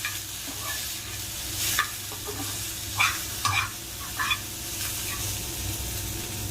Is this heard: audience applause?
no